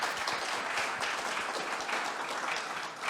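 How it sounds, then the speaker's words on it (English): An audience applauds panel guests at the close of a blockchain talk session, a steady, dense wash of clapping that fills the room continuously without pause. "please give a round of applause to my great guests"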